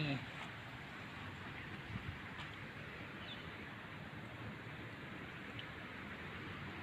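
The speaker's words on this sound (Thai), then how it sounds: "บรรยากาศท่ามกลางฝนตกนะคะ" Rain falls outdoors in a church front garden decorated for Christmas, a soft, even hiss of steady rainfall with faint patter, fairly quiet and continuous throughout.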